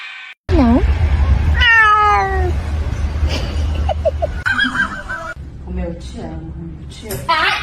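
A pet cat meows repeatedly at close range in a home, its calls rising and falling with varied pitch, while people talk and exclaim around it.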